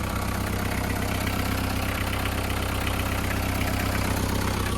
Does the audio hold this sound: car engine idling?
yes